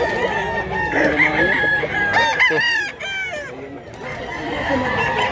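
A Black Milsim rooster crows loudly and close, its rising call standing out over a busy backdrop of other fowl clucking and chattering, with people talking nearby at a chicken seller's.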